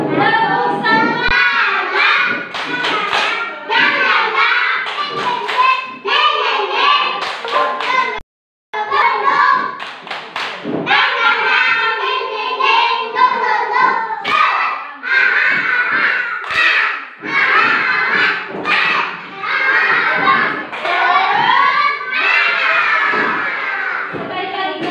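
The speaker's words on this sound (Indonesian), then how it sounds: "ayo kita tepuk semangat dulu." A classroom of children performs a rhythmic spirit clap, loud close bursts of clapping mixed with shouted chanting voices in quick repeated phrases.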